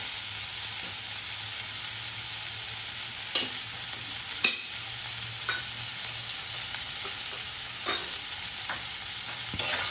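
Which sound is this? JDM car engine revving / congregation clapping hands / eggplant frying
eggplant frying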